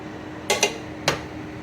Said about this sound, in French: Et on fait tourner l'oignon à feu doux jusqu'à ce que ça soit doré.